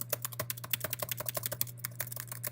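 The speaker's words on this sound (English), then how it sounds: "then I can type in pretty fast" Rapid typing on a computer keyboard, a dense run of crisp, close key clicks in an uneven quick rhythm over a steady low electrical hum.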